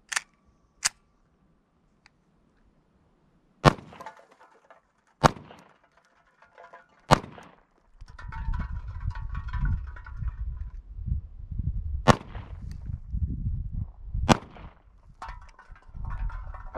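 An FN 509 Tactical pistol fires spaced single shots outdoors, each a sharp crack with long irregular pauses between them, while a low rumbling background fills the later part.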